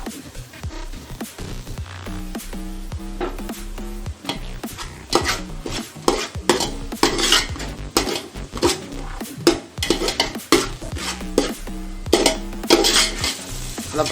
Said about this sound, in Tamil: வெங்காயத்தை சேர்த்து நல்லா வதக்கணும்.